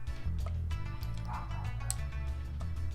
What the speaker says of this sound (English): I do apologize for the barking dog.